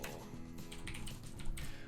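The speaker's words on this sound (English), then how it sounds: "It's a mechanical keyboard, and I don't know if the switches are going out or what." Rapid clicking keystrokes on a mechanical keyboard whose switches may be failing and doubling presses, typed steadily and fairly close over a constant tonal background from the game ECO.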